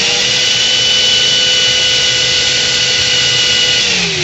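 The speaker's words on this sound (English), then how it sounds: "I'm going to sand this area down completely flat and get it all nice and cleaned up. I'm using 120 grit sandpaper" A power sander with 120 grit sandpaper grinds a wooden surface flat, giving a loud, steady, continuous whir with a high hiss that holds unbroken for the whole stretch, with no talk over it.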